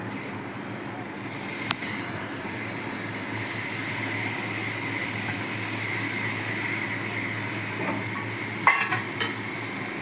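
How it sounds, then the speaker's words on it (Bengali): Rice, dal, spices and chopped tomato are stirred together in a pot for khichuri, a steady low scraping churn with faint sizzle and a couple of sharper utensil knocks near the end, no voices. "এবার চাল ডাল মশলা সব একসঙ্গে ভালো করে খানিকক্ষণ নাড়িয়ে নেব"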